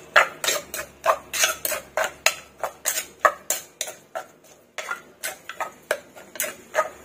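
A utensil stirs eggplant soup ingredients with fresh chilies in a pan. Steady, rhythmic clinks and scrapes of metal on the pan repeat about twenty times at an even pace, close and clear, with no voices.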